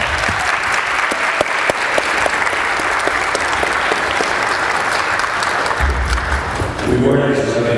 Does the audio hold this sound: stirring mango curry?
no